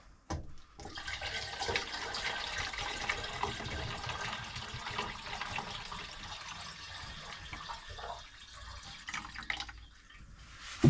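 Vinegar pours steadily into an old rusty fuel tank as it fills up, a continuous watery splashing and trickling that runs close and moderately loud for the whole stretch, with no talking.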